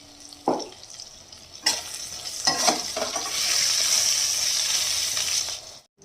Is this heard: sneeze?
no